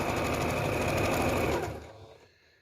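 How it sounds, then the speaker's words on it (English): A sewing machine stitches a double binding onto a quilt edge, running in a fast, steady mechanical whir close up before slowing and stopping near the end. "and then he's going to start stitching from there"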